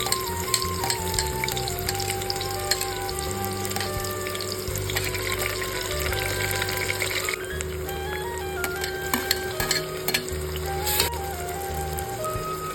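Onion, tomato and mint sauté in hot oil in a pan, a loud steady sizzle with intermittent stirring scrapes throughout, no talking.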